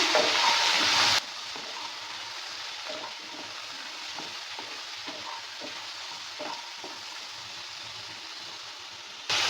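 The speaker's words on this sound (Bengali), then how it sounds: "সব কিছু দেওয়ার পর ভালো করে মিক্স করে দিচ্ছি" Hog plum pickle being stirred in a pan after salt, turmeric and chili powder go in, a soft continuous sizzle with scattered scrapes and taps of the spoon, close and unhurried, louder bursts at start and end.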